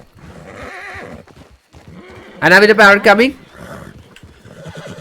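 A horse lets out a single loud, close whinny of about a second in the middle, with people talking before and after it.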